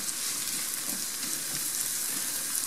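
Onion and leek fry in hot oil in a pan, a steady, close, bright sizzle that hisses evenly throughout with no talking.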